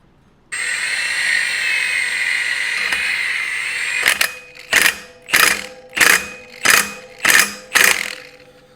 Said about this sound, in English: now we throw this bolt in. This is a left-hand thread, or I guess reverse thread